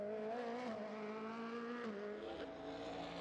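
A race car on a time-attack track accelerates hard through the gears as it exits a corner, engine note climbing and dropping with each upshift, loud and sustained throughout.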